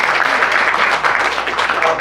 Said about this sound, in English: give him a round of applause for being great